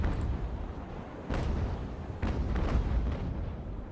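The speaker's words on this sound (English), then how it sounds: "My very first volley, and I got rigging shock." Naval cannon volley in the age-of-sail game Ultimate Admiral Age of Sail, a run of overlapping booms and rumbling blasts over a continuous low roar, with sharper bursts standing out near the middle and later.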